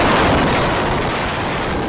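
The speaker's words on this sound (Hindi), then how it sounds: "एक बहुत बड़ा ब्लास्ट, धमाके की आवाज दूर तक सुनाई दी" Heavy rumbling demolition blast bringing down the Noida twin towers, a loud broadband roar that starts strong and stays sustained for the whole span, with no voices.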